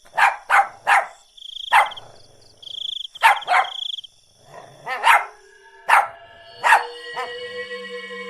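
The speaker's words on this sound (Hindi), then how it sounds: "वो उसकी तरफ देखकर भौंकने लगता है" Cartoon dog Tuffy barks at a witch at night, a series of sharp, loud barks with short yips spaced irregularly, ringing out close over a quiet background.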